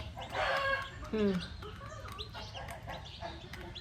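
A hen clucks softly among her chicks, two days after hatching, giving a few short throaty calls mixed with faint peeping, fairly quiet and nearby.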